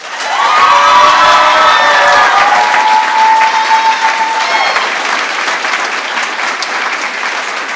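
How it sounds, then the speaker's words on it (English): Loud applause and cheering from a ceremony crowd greeting newly commissioned Army second lieutenants at an ROTC commissioning ceremony, steady clapping with whoops and a sustained shout early on, gradually easing but continuing throughout. "Let's give the new lieutenants one more round of applause."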